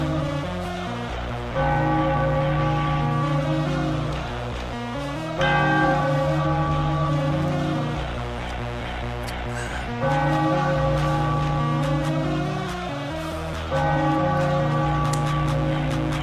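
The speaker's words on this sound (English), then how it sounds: "Ring the bell." Bell rung in a basketball arena during a live Philadelphia 76ers versus Golden State Warriors game, sounding as loud repeated peals in bursts over steady crowd noise and music.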